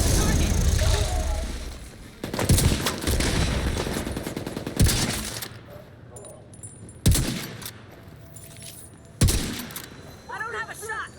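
Gunfire in The Division 2 aimed at an enemy fuel tank: heavy sustained shooting bursts with sharp loud reports at intervals, mixed with game effects.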